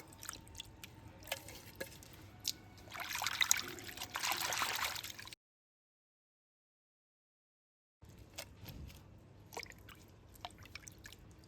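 Water drips and trickles softly close by as leaves are washed by hand, with a fuller splashing stretch in the middle, a silent gap, then scattered drips again.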